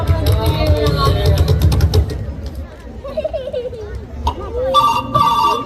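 A telephone rings during a school assembly at an annual carnival event. The ring is loud near the end, under a noisy hall full of talking voices and children.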